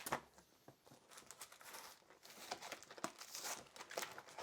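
Adhesive material peels off a comic book collection, giving close, crinkly tearing and crackling in irregular bursts with no voices.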